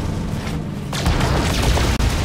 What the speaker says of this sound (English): Come on, photon cannon, cool off.